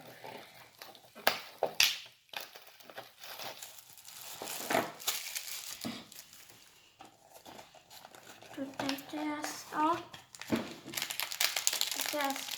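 Plastic packaging crinkles and crackles in bursts while a person talks over it, with a few sharp snaps and tearing sounds.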